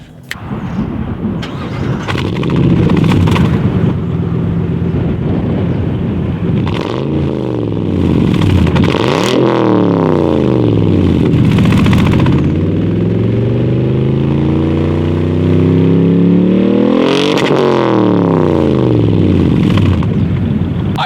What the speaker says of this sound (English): now is a good time for the exhaust clip